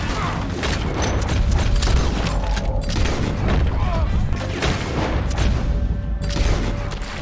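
Gunfire in the video game Red Dead Redemption 2, a dense run of shots and booms layered over busy mechanical clatter and game noise, loud and steady throughout.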